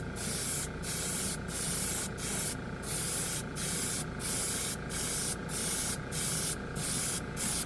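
An airbrush spraying primer while a compressor runs, heard as a loud, steady hiss of air broken into short regular bursts, with the compressor's constant hum underneath.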